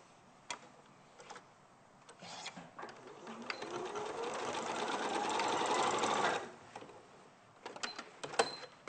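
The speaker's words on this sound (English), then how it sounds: "So I'm going to bring the edges together and sew across the dart." Sewing machine stitching across a dart in fabric, scattered clicks and handling sounds before a steady whirring run of several seconds, then more faint ticks and taps as it stops.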